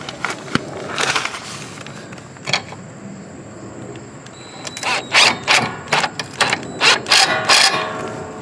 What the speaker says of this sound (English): now I can take my my driver and tighten these down